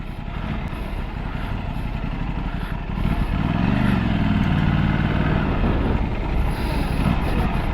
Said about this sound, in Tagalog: naka 270 degree crank. May pagka parang cross plane yung tunog eh.